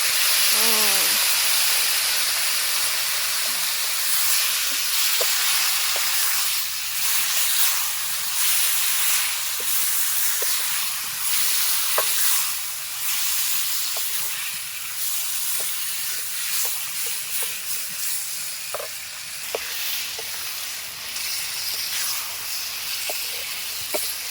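Spice paste hits hot oil in a potato curry being cooked outdoors at a picnic, giving a loud, steady sizzle and steam hiss that runs throughout, broken by occasional small pops and clinks of stirring.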